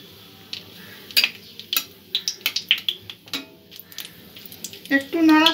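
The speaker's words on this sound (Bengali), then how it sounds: "একটু নাড়াচাড়া করে নেব।" A spoon stirs cardamom pods and a bay leaf in hot ghee in a pan, giving irregular close clinks and scrapes against the metal, then a brief sizzle at the end.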